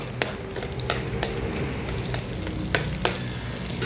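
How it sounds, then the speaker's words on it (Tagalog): Mung beans are sautéed with onion and garlic in a hot pan, giving a steady close sizzle broken by sharp scrapes and clinks as a utensil stirs the pot. "Gisa ko na po yung munggo."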